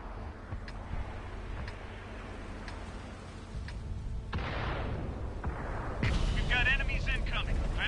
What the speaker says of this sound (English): here comes the missiles